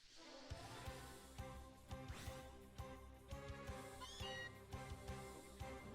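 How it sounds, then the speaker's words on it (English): A wild Meowth cry in Pokémon: Let's Go, Eevee!, a short catlike meow heard over upbeat game music with a steady beat, fairly quiet overall, no talking. "Is that a Meowth?"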